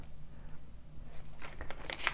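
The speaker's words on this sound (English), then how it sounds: "Sorry for the paper noise." Watercolour paper crinkles and rustles faintly at first, then louder crackly handling toward the end, close by and with no talking.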